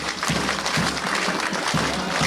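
An audience at an NSG Black Cat commando rally event in Lucknow claps in a sustained round of applause, with a voice speaking over it.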